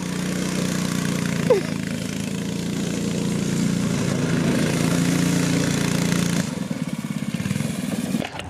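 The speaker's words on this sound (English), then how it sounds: "That just sound like a lawnmower," A small go-kart engine runs with a buzzy, lawnmower-like putter, loud and close and fairly steady, then shifts to a choppier, rougher idle near the end, with no voices.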